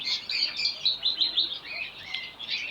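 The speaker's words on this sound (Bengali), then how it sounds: "অনেক কালারের অনেক রকমের বাজিগর পাখি আছে এখানে" Budgerigars chirp and chatter continuously at close range at a bird market, a busy warbling flock of bright, overlapping tweets with no talking.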